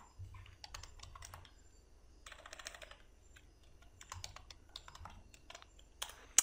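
Quiet, close clicks from a computer keyboard in irregular bursts while someone writes Java web code, with short pauses and a louder keystroke at the end.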